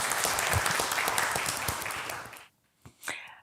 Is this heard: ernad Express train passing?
no